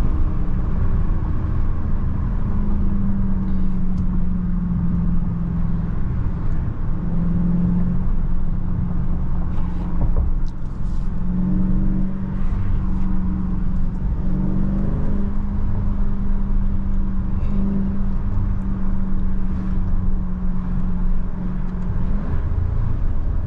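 A Dodge Scat Pack widebody on 315 tires drives in track mode, its engine a loud, steady, deep droning rumble heard from inside the car with slight pitch shifts as it pulls.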